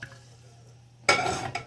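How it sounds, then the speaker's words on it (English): Two cups of boiling water poured into a bowl in a home kitchen, heard as a sudden close splashing gush that runs for about half a second after a quiet start. "I'm going to pour the 2 cups of boiling water into my bowl."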